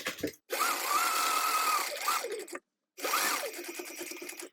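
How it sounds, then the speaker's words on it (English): A sewing machine stitches a bag seam at a quarter-inch allowance in two close, steady runs of rapid whirring, the first longer, separated by a brief stop and silence. "sew these together with a 1/4 inch seam allowance"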